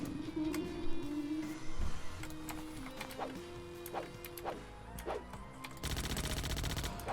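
Carbine rifle fire rings out in the zombie game Pandemic Walkers as a scatter of sharp single shots, ending in a dense burst of rapid automatic fire over background game ambience.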